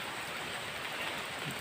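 Heavy rain pours steadily as a dense, even hiss with no pauses, close and fairly loud, with no voices over it.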